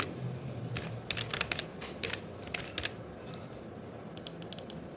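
A password is tapped out on a computer keyboard in a short series of light, close keystrokes over a steady background hum.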